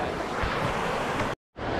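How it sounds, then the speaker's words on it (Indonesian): Steady roar of morning surf breaking on a Malaysian shore mixed with wind buffeting the microphone, continuous and close, then a brief dropout before the wash resumes. "Ombak okay pagi ni."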